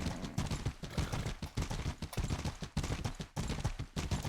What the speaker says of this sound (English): I can hear that horse right behind him